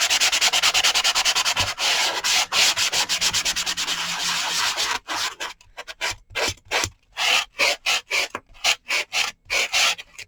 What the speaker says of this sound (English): I could take my sanding block